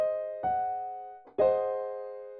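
German augmented sixth chord sounded twice, a sustained, rich harmonic chord struck and left to ring and fade before being struck again, with no talking.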